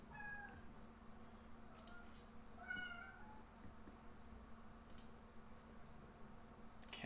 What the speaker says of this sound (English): This cat's being such a pain.